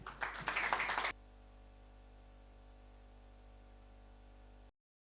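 A church congregation at a Sunday service in Quechua applauds the group Canto de Esperanza, a dense burst of clapping lasting about a second before fading into steady room hiss, with no talking.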